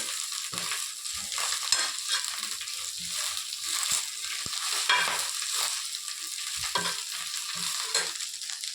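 Drumstick leaves and curry leaves dry-roast in a pan for a spicy powder, with a constant dry sizzle under repeated scraping and stirring strokes and light crunching, close by with no talking.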